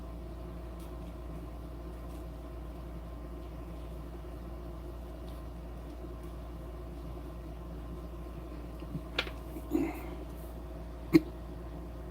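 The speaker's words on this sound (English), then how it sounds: "That's all I need are the hiccups now." A person gives a few short, sharp hiccups near the end of a long quiet stretch, heard over a faint low engine-like hum.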